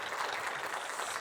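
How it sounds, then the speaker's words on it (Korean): An audience at a touring choir concert in Jeju claps in a brief, steady patter of applause to welcome members of the 416 Choir. "큰 박수로 환영의 박수 주시면 이야기 나누겠습니다."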